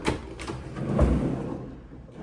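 A long hotel room drawer slides open and shut with a low rolling rumble and a soft thud, close by in a quiet room.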